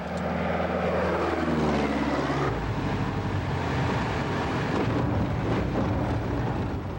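A bush plane in Alaska drones loudly and steadily, its propeller engine pitch sliding downward early on before settling into a rough, continuous roar with wind buffeting.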